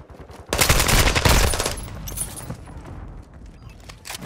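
A rocket launcher explosion in Call of Duty: Modern Warfare II bursts in loud and close, a heavy crackling blast rolling for about a second before settling into a lower rumble of battle noise.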